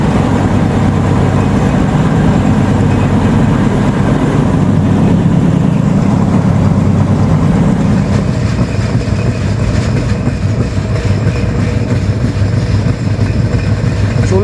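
A train runs through Nimtala railway station at a moderate speed, heard as a loud, steady rumble of rolling cars with faint wheel clatter and no talking.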